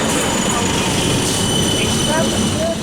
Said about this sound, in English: we're going to catch this tram to Grand Central